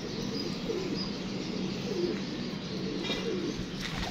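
Pigeons coo in a soft repeating rhythm from close by over a low steady background murmur, with a few light chirps mixed in.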